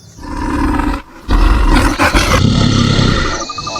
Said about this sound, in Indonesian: Beruang.